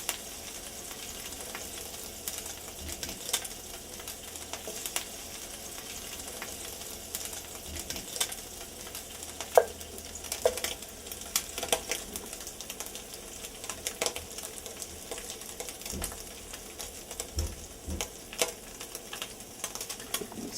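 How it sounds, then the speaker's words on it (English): Pancetta frying in a pan until crisp, giving a steady low sizzle with scattered crackles and pops throughout, heard alone at moderate distance. "So let your pancetta fry up a little bit and make sure it gets nice and crisp"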